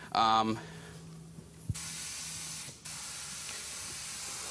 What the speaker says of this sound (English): We're using the Evolution spray gun.